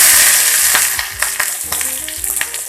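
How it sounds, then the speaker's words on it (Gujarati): Mustard seeds and chilli pieces hit hot oil for a tempering, giving a loud, close sizzle that starts strong and breaks into rapid crackling pops and spits as it settles. "તેલ ગરમ થઈ ગયું છે, રાઈ એડ કરીશું"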